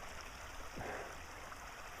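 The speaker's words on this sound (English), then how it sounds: "fresh water running by." Fresh water running along a mountain bisse irrigation channel, a steady soft rushing and burbling flow heard from close by, faint and continuous.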